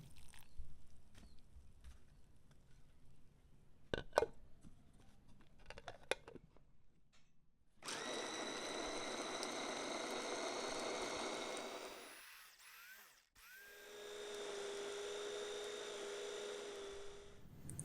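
A food chopper whirs steadily as it grinds fried peanuts with a little water, a loud continuous motor drone after some quiet clinks, briefly pausing before starting again.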